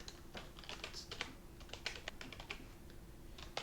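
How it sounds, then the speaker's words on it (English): Quick, irregular clicking of keys on a computer keyboard, typed close up and fairly quietly with short pauses between bursts, with no speech. "I have to make sure that I'm typing the right keys"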